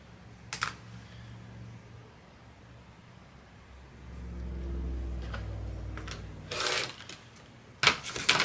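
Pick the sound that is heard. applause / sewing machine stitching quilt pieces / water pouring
sewing machine stitching quilt pieces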